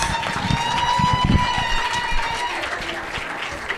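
Audience at a comedy roast battle breaks into sustained applause and cheering, a dense wash of clapping with crowd voices mixed in, fading slightly toward the end.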